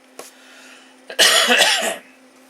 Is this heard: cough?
yes